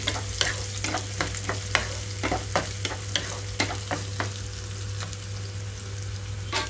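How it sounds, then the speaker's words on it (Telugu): Onions sizzle steadily in hot oil, with repeated sharp scrapes and clicks of a spoon stirring the pan over a constant low hum. "ఒక రెండు మూడు నిమిషాల పాటు ఇలాగే ఉంచి వేయిస్తున్నాను"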